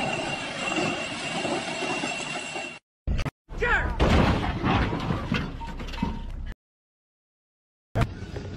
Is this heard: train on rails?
yes